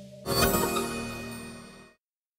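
A single bright bell-like ding rings out after a brief silence, then sustains and fades smoothly before cutting off.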